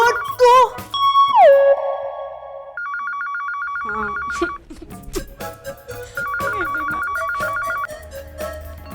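A telephone ringtone chimes repeatedly in a melodic electronic pattern, loud and close indoors, with brief pauses and some background voices and noises between rings.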